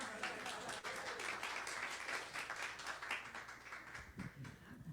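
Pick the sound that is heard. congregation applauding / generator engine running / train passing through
congregation applauding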